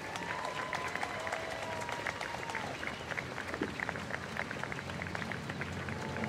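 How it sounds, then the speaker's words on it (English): Applause from families at an outdoor high school marching band sendoff show, dense steady clapping spread across a crowd throughout, with a sustained tone and faint voices underneath. "Please give them a round of applause."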